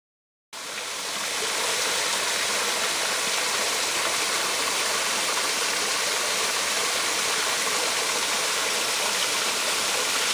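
The Chattooga River rushes steadily in Georgia, a loud, continuous broadband roar of flowing water that fades in and then holds unbroken with no voices.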